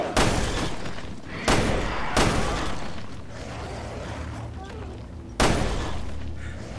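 Samurai Edge pistol shots at dogs in Resident Evil Revelations 2, set in the dark: four sharp, loud single shots spaced a second or more apart, with reverberant tails and low game ambience between them, and some talk underneath.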